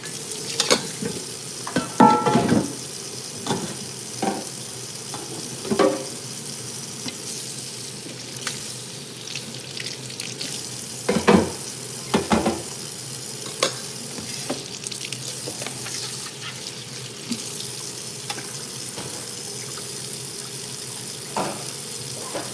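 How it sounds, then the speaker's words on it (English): Water running as plastic containers are rinsed out, a steady hiss of flow broken by several louder splashes and clatters of containers handled close by, with no talk. "Alright, so I'm just rinsing these out."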